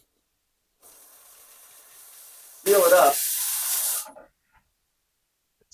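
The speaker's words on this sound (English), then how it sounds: "it's filled with steam" Steam hisses and sprays into a plastic milk jug, a quieter hiss at first, then a louder burst of rushing steam for over a second before it cuts off, with a brief spoken phrase alongside.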